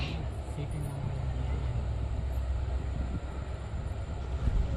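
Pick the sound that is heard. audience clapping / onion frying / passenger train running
passenger train running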